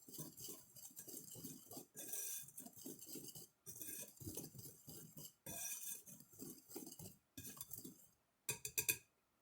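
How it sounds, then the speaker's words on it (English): A whisk mixes cinnamon and baking soda into dry ingredients in a bowl for vegan Amish friendship bread, giving steady rhythmic metallic scraping and clinking strokes in quick bursts with brief pauses, close and fairly soft. "Whisk together until it's nice and mixed."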